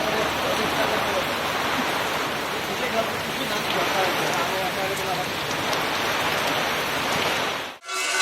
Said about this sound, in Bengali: প্রচুর বৃষ্টি বন্ধুরা, প্রচুর বৃষ্টি।